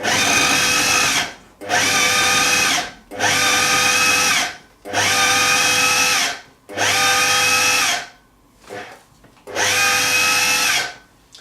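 Food processor pulses chilled diced butter for biscuit dough in seven loud bursts of whirring motor, each about a second long, separated by short silent gaps.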